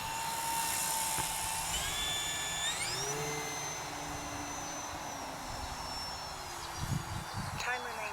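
A Turbo Timber Evolution RC plane flies slowly with flaps down, its electric motor whining at a steady, shifting pitch overhead. A voice talks over parts of it.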